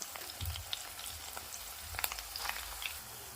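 Onion paste frying with green chillies in a hot pan gives a soft, steady sizzle with scattered crackles and pops, faint and continuous, without voices.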